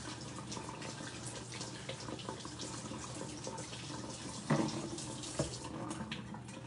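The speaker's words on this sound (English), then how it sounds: "And then you rinse your sausages." Tap water runs steadily into a kitchen sink while sausages are rinsed, a continuous close splashing hiss with a couple of louder clunks and splashes near the end.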